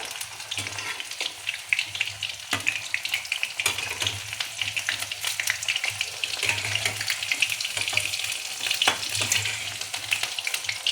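Banana flower vada deep-frying in hot oil, a steady crackling sizzle with frequent sharp pops and spatters, close and moderately loud throughout.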